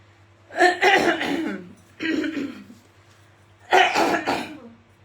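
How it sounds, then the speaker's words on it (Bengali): A woman coughs in three short, rough bursts, close and fairly loud, with brief pauses between them and a steady low hum underneath. "আমার কাশিটা আসতেছে না ঠিক মতো।"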